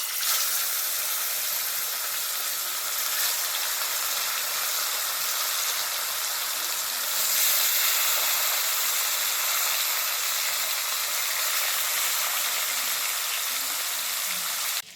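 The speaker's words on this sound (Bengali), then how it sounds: "এবার মাছগুলো ভেজে নেব।" Fish pieces frying in very hot mustard oil in a wok, a loud, dense, continuous sizzle and hiss heard up close, swelling slightly midway and holding steady throughout.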